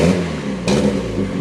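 MK4 Jetta 2.0 engine fitted with a WOT box, revving with the throttle floored, a loud steady droning roar that surges briefly midway and holds high.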